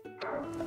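Dog barking in the video game Zelda: Tears of the Kingdom, a single short yappy bark with a whiny edge, fairly faint and close, heard alone.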